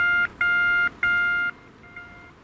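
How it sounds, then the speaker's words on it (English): A radio direction-finding beacon, heard on a vintage military-style receiver, sounds as a pure, high electronic tone, pulsing in three long beeps with short gaps before fading to faint static. "You can hear a radio beacon."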